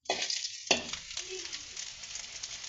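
Crushed ginger dropped into hot oil in a pan, a sharp burst of sizzling, then a steady hiss that fades to a quieter crackle, close and alone.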